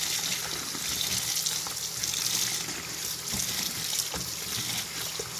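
Face masks being hand-washed and sloshed in a sink of soapy water, a steady close wash of splashing and running water throughout with small irregular splashes.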